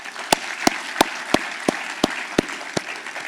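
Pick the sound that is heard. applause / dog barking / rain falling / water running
applause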